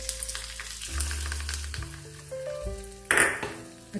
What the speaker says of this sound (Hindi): और इसके ऊपर डाल देंगे अपना तड़का।